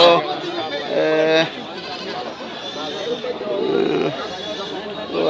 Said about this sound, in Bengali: আর কিছু ছাগল আমি আপনাদেরকে দেখাইতে পারি কিনা দেখি